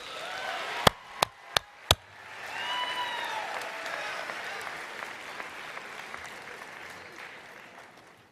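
Applause at a university commencement ceremony for the Z-Band and vocal performance students, opening with a few sharp claps and building into a broad, steady wash of clapping from a large audience.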